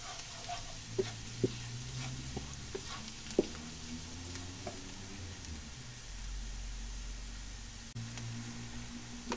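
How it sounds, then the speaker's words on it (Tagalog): Garlic browning in a frying pan while cooking menudo, giving a steady low sizzle with occasional scrape and tap sounds of stirring, faint and continuous without speech. "tayo natin mag-brown ng konti yung bawang"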